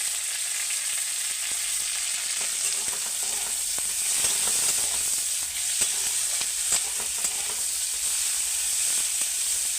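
Onion and tomato fry in a pan with a steady, close sizzle and faint crackles throughout, with the occasional light stir and no talking.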